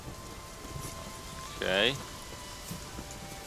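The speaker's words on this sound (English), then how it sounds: "The storm, damn it." Rain falls in a storm inside The Witcher 3, a soft, steady hiss across the whole stretch, briefly covered by a short spoken word from a player near the middle.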